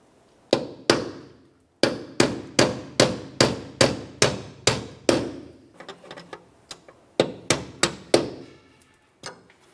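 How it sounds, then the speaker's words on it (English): A steady run of sharp metallic hammer strikes on a punch knocking out a spare tire hoist dowel on a Dodge Ram 2500, about a dozen evenly spaced blows, then a pause and a few more taps, close and loud. "You can do this with a hammer and punch."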